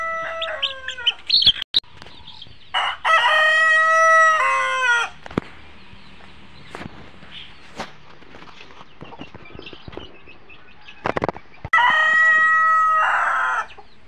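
Chickens and roosters close by, with two long loud crows separated by scattered clucks and sharp knocks in between, no talking.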